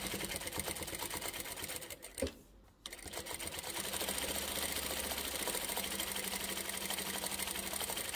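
A sewing machine stitches down both long sides of a fabric strip that will become an oven mitt loop, giving a steady close mechanical whir that breaks off briefly near the middle and then runs on evenly.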